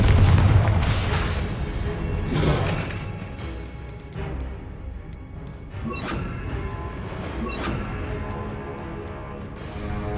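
A Confringo spell in the Hogwarts Legacy video game sets off a loud booming blast at the start, followed by rumbling debris and a few further softer impacts.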